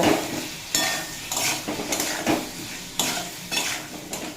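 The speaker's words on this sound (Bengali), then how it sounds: "পেঁপে আর আলুর সাথে মশলা বেশ কিছুক্ষণ কষিয়ে নিয়েছি" Papaya and potato sautéed with spices, salt and turmeric in a pan, with repeated bursts of scraping and stirring over a steady sizzle, close and fairly loud, no voices.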